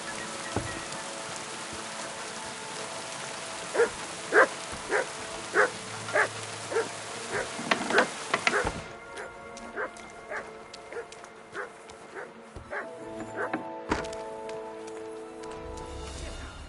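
Mats the dog barks on command in Kingdom Come Deliverance 2, a run of about a dozen sharp, evenly paced barks over steady rain, then a few more scattered yips later under ambient game sound and music.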